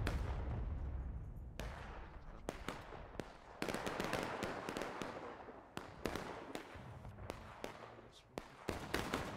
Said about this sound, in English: For that cannon shot.